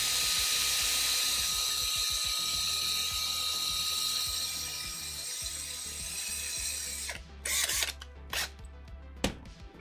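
A buffing wheel loaded with rouge polishes leather with a steady, close whirring hiss that runs for several seconds, then cuts out, leaving scattered clicks and handling knocks.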